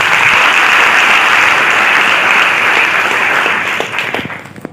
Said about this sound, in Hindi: मैं एक बार तालियां चाहूंगी उनके लिए।